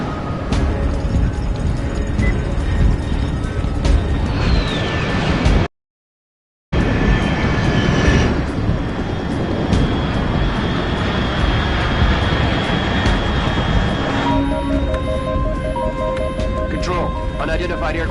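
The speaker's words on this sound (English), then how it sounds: "Classified aircraft detected." A fast classified jet aircraft roars overhead in a God of War game scene, a loud sustained engine rush that briefly cuts out and then resumes, swelling and shifting pitch with a faint whine.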